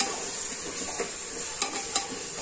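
A masala of garlic, coconut and coriander is stir-fried for matar bhaat, giving a steady close sizzle with a few soft scrapes and two sharper clinks of a utensil against the pan. No one speaks.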